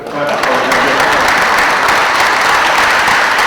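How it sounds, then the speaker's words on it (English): Loud, continuous clapping from an assembled crowd at a school address, dense and steady from start to finish. "He deserves applause."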